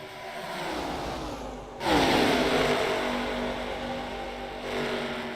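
Stock-car engines drone in a sim racing game with Next Gen and ARCA cars, a steady hum that jumps into a loud, rising rev partway through and then settles into a sustained multi-car roar.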